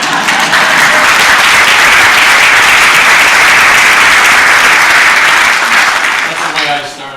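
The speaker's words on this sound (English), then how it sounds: "You can clap." Loud, sustained applause from a memorial gathering's audience honoring school faculty and staff, steady dense clapping for about six seconds before fading out, with a voice starting to speak at the end.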